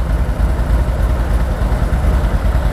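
An ODES 850cc EFI 4WD ATV engine idles close by, giving a loud, steady, deep rumble with an even throbbing pulse throughout.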